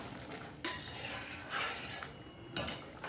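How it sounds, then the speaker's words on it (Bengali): A utensil scrapes and clinks against a pressure cooker pot while dal is stirred with water, in a few close, distinct metallic strokes with quieter scraping between them. "ভালো করে জলটা দিয়ে ভালো করে নাড়িয়ে চাড়িয়ে দেখো ফুটে গেছে"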